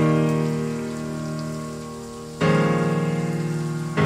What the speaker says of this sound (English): Rain sounds immediately.